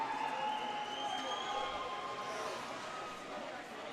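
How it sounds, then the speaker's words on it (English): Hockey crowd at an NC State game in the arena, a steady distant roar of cheering and noise sustained throughout, with a commentator talking over it. "And the crowd getting hype right now."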